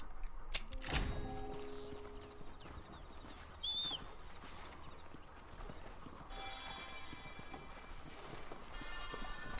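Galloping horse hooves in the video game Red Dead Redemption, a steady rhythmic clip-clop under game ambience with a brief bird call and some music.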